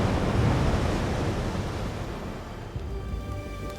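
Ocean surf in a steady, full roar of crashing and washing waves, loud and continuous, easing slightly toward the end with no voices.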